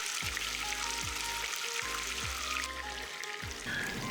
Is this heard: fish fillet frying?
yes